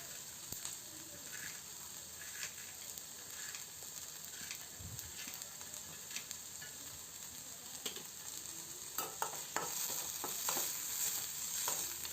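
Onions fry in a pan with a pinch of salt, giving a steady close sizzle with scattered scraping stirs, louder bursts near the end, and no talking.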